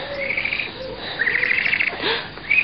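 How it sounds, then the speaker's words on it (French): An owl calls from a forest at night, a few close, clear hoots over a faint background of chirping insects. "C'est un hibou, mon amour. N'aie pas peur."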